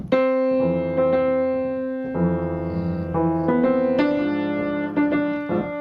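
Jazz piano left hand playing sustained root-and-seventh chords, a low bass note under a higher note, changing every second or so, clear and alone.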